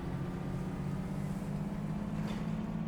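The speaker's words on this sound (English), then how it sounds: "this is the sound of the CNG" A CNG IVECO Urban Way bus engine in Bus Simulator 21 drones at a steady idle, a low even hum with a faint hiss above it, heard alone and unchanging throughout.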